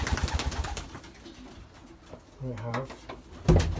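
Pigeons cooing in a loft of stock birds, low soft coos rising briefly amid shuffling and clatter, with someone talking over them.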